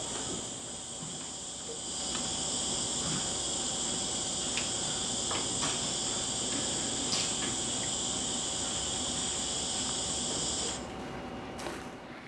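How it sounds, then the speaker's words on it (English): Dense, steady chorus of crickets and other insects fills a forest in Orissa, India, a continuous high shrill drone holding level for about twelve seconds with no voices. "This is real ambient noise from a forest in Orissa when I was actually doing this book."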